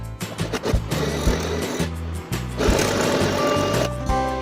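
Twin-needle sewing machine stitching pintucks, running in short bursts of rapid mechanical whirring with brief stops in between, then a longer steady run near the end.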